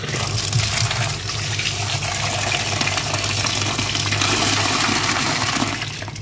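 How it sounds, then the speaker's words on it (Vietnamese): Tap water runs steadily into a bowl of razor clams being rinsed in a home kitchen, a continuous splashing gush that stays loud and even throughout with no talking over it. "bây giờ mình sẽ xả nước vô mình rửa nha"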